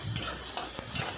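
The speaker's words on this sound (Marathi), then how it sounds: "आता टमाटामध्ये मीठ टाकले, हलवत राहायचं, मिक्स करत राहायचं" Tomatoes with salt being stirred in a pan while cooking dried prawns, a few soft scraping strokes of the spoon over a faint sizzle, close and quiet.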